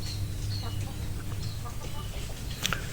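A sick chicken suffering from a cold, snoring breath and snot gives soft, intermittent clucks, with one sharper call near the end, over a constant low background hum.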